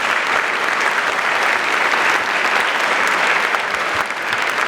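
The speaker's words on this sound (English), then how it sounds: "clap it up for Coach" A large audience at a Boys State opening ceremony claps steadily and loudly for a coach, dense sustained applause filling the room throughout with no break.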